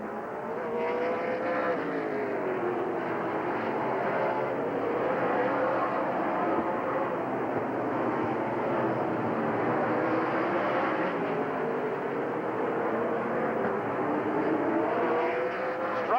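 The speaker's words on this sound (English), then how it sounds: "Not much racing room down there for Strupp." Late model race cars run around the Rockford Speedway oval in a steady, distant engine drone with pitch swelling and fading as the pack moves.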